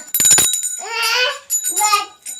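A bicycle bell rings in rapid bursts at the start, close and bright, followed by children's voices speaking over a steady tone.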